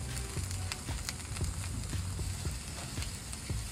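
A ribeye steak cooks on a 2023 Suburban Flagstaff griddle, giving a faint, continuous sizzle and crackle with small irregular pops and ticks throughout.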